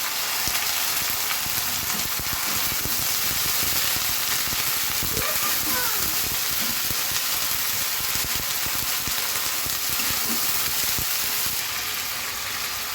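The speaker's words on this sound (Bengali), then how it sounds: "পেঁয়াজটা আমি একটু ব্রাউনিশ করে ভেজে নিই" Onions frying in a pan until brown, with a steady, loud sizzle and crackle of hot oil that runs unbroken throughout, and occasional faint stirring scrapes beneath it.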